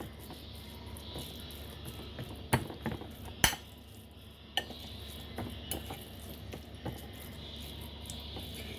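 A portobello mushroom mixture with ground meat is stirred in a pan, with a spoon scraping and clinking against the metal in occasional sharp knocks over a low, steady background, with no talking.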